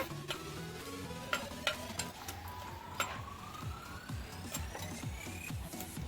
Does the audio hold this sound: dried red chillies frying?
yes